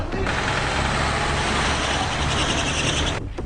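A bus or truck engine running in a military setting, a loud, steady broadband rumble that persists unbroken for several seconds before cutting off abruptly near the end.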